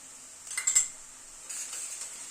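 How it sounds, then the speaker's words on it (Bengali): A spoon scrapes and clinks against a pan while stirring garlic paste into onions, a brief cluster of metallic taps followed by softer scraping, fairly quiet with no voices. "রসুন বাটাটা দিয়ে আবার পেঁয়াজের সাথে একটু নাড়াচাড়া করে নিচ্ছি।"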